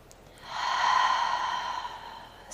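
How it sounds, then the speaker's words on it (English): One long, steady breath sounds close during a Pilates stretch, an airy exhale that swells and then fades, with nothing else heard. "And take 2 deep breaths."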